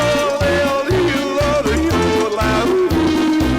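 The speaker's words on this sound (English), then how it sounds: "you've got terrible music that plays on a loop" Looping video game music: a busy electronic tune with steady bass and bright synth melody repeats, loud and continuous with no talking.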